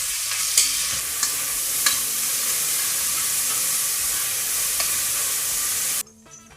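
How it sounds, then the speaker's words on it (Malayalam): Onions and curry leaves sauté in hot oil for a quick fish curry, a loud, even sizzle with a few faint utensil ticks, cutting off abruptly near the end. "ഇത്രയും സാധനങ്ങൾ നമ്മൾ ആദ്യം വാട്ടിയെടുക്കും."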